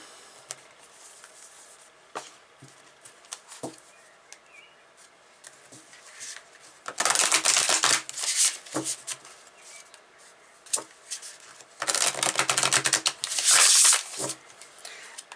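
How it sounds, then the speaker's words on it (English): Cards being shuffled: soft scattered ticks and rustles, then two bursts of rapid riffling flutter, close and fairly loud. "This deck feels like it would shuffle better in reverse."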